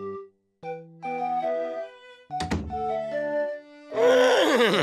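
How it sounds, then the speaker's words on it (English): A cartoon horse gives a playful, wavering neigh that rises and falls, surrounded by bright musical tones and bouncy sound effects. "A funny neigh from the funniest horse in town."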